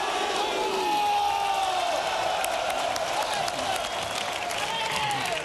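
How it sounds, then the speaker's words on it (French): A large outdoor crowd at Paris Saint-Germain's champions presentation beneath the Eiffel Tower applauds, cheers and whoops in a steady roar of clapping and shouting, with amplified voices ringing faintly through the din. "À vous de l'applaudir et de l'accueillir"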